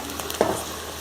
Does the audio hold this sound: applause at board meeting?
no